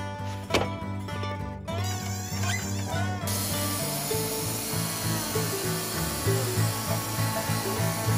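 A sawmill cuts boards from a crooked cedar log, a loud steady mechanical whine and rumble with shifting grinding tones as the blade moves through the wood, continuous throughout.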